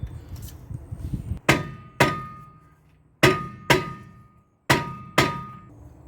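A mallet strikes seized brake parts on a 2011 Toyota Camry LE during a brake job. There are six loud metallic blows, spaced unevenly, each ringing briefly before fading, with no voices.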